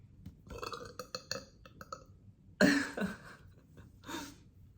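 A person lets out a long, loud, rumbling burp after a stretch of small breathy clicks and gulps, followed by a shorter second belch, close to the microphone with no talk.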